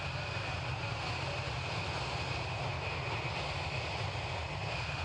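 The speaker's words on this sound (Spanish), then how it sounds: "Lo que vas a notar es que él enciende los motores." A large airplane's engines spooling up before takeoff, a dense, steady roar with a constant high whine, loud and unbroken throughout.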